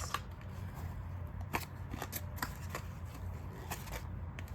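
Damp cardboard salvaged from Amazon packages is folded and handled close up, producing soft rustling with intermittent crisp creases and snaps spaced irregularly, fairly quiet, with no voice over it.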